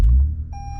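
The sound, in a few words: Toyota Camry XSE V6 startup chime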